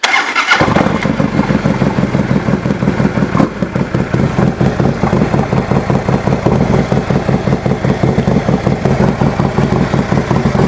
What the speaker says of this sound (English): Listen to this motorcycle though